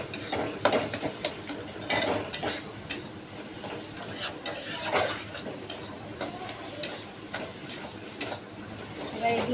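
Dried chillies and spices sizzle in hot oil in a pan while a spoon stirs and scrapes, giving a steady fry with irregular clicks and knocks close by.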